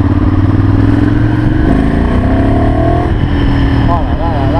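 A Ducati Monster 796 motorcycle accelerates on city streets, the engine note rising through the revs in loud, close sweeps under a rider's voice.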